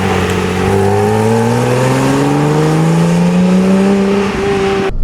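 A Porsche Cayman 987 2.9 engine revs steadily higher toward redline, its pitch climbing smoothly and changing character around 4500-5000 rpm, holding loud and close before cutting off.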